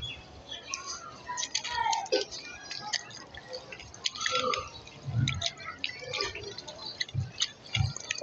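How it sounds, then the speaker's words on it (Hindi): A bowl for pigeons being scrubbed and cleaned, giving irregular wet scraping, sloshing and clinking sounds up close, with someone talking over the work. "तो कटोरा साफ हो रहा है"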